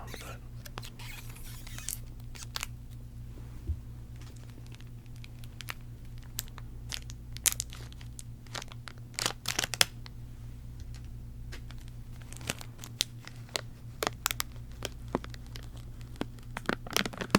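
Plastic wrap crinkles and tears off a deck of playing cards in close, quiet bursts of irregular crackles and snaps.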